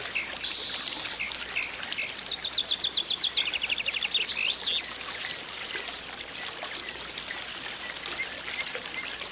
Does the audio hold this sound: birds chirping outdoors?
yes